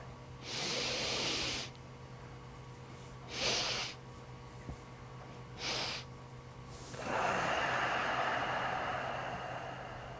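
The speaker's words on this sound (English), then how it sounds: "This helps to get all of the air out of the lungs. So we start again. So inhale. And we'll do one more breath." Deep three-part yoga breathing done lying on the floor: several slow, airy inhales and exhales close to the microphone, with pauses between them and a longer exhale to finish.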